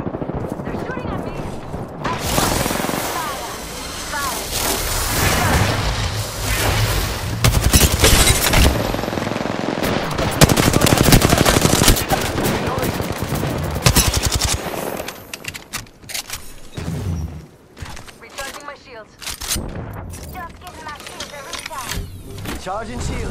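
Sustained video-game gunfire from enemies shooting at the player in a battle-royale match, dense automatic bursts and shots that stay loud for most of the stretch, easing near the end, with a voice talking over it.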